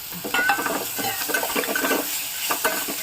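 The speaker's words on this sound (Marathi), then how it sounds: "पावटा छान मी तेलात परतून घेणार आहे" Field beans (pavta) sautéing in oil in a pan, with a busy sizzle and repeated scraping strokes of a spoon, close and moderately loud.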